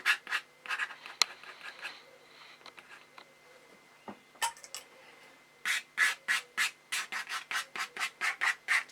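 Scratchy strokes of an ink pen on paper, irregular at first, then a quick rhythmic run of back-and-forth marks, close and quiet.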